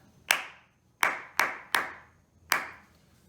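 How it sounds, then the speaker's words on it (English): Hands clapping a short rhythm in a quiet room, five crisp, close claps: one alone, then three in quick succession, a pause and a final clap, each with a brief ring-out. "so now we can clap the rhythm"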